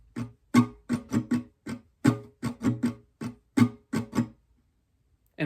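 Acoustic guitar strummed in a steady pattern with one accented, emphasized strum, as played for a song; about a dozen crisp close strokes at a regular pulse, then a pause.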